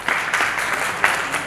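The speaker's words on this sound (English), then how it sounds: "Please, can we give him a round of applause?" Audience applauding a film industry speaker, a brief burst of dense clapping from a seated crowd, fairly steady and moderately loud.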